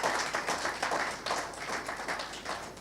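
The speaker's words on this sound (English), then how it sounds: "can we all applaud the Ambassador and the Embassy of the Czech Republic?" An audience applauds the Czech Ambassador and Embassy at the official launch of a national community media cyber capacity building project. The clapping is dense and continuous, crowd-wide and moderately distant, rising and falling gently for under three seconds.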